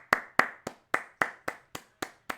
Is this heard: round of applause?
yes